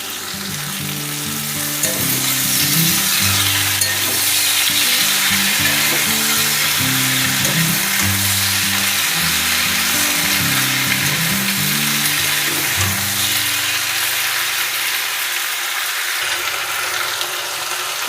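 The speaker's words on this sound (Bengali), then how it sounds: "এবার পুঁই শাকের পাতাটা দিয়ে দিচ্ছি।" Malabar spinach leaves fry in a hot pan with a dense, continuous sizzle while a spatula stirs and scrapes, and soft background music plays underneath.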